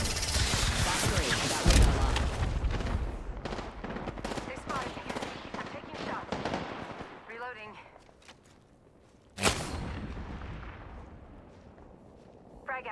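Rapid gunfire in Apex Legends, dense automatic bursts through the first half, then quieter, followed by one sharp, loud shot near the end. Someone talks over parts of it.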